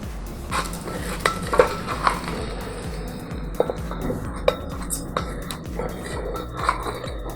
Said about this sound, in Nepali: यो चामल र दाल चाहिँ नि एकछिन भुट्न जरुरी छ, यसलाई एकछिन मजाले भुट्नु।